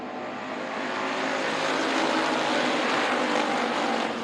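Race cars restarting on an oval track, a loud, dense roar of many engines building and sustained as the field accelerates, heard at close range without talk.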